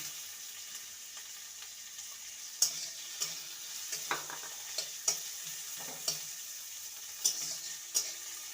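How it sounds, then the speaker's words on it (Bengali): Chopped onion lightly frying in a pan with a soft steady sizzle, punctuated by a series of sharp spatula taps and scrapes against the pan, no voices. "পেঁয়াজটাকে হালকা ভেজে নেব"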